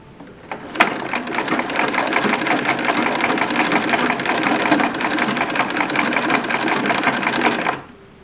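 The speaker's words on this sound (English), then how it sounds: "we're sewing" A sewing machine runs steadily while stitching fabric for wedding underpinnings (drawers), a close, loud continuous mechanical whir that starts with a click, holds for about seven seconds and then stops, with no talking.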